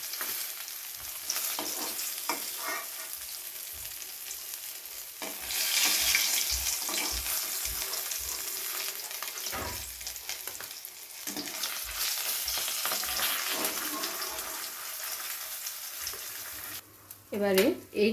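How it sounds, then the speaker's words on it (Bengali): Katla fish frying in hot oil in a kitchen pan, continuous crackling sizzle with occasional stirring clinks and a brief burst of running tap water near the end, close and moderately loud. "একইভাবে বাকি মাছগুলোও কিন্তু ভেজে নেব।"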